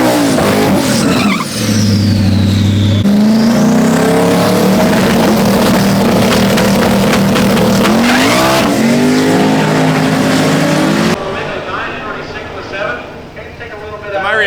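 A race car at a drag launch revs hard, then its spinning tires squeal and the engine screams loudly for several seconds before cutting off, leaving quieter sounds and a voice at the end.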